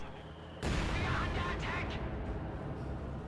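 A heavy mortar bombardment strikes in a World War II strategy game, with a sudden loud blast followed by rumbling impacts and crackling debris that roll on over a sustained low roar.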